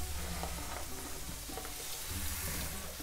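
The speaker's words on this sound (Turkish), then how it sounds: "Pidelerimizi tereyağında güzelce kavuruyoruz" Pieces of pide bread frying in melted butter in a pan, giving a steady, fairly faint sizzle with small crackles throughout and no talking.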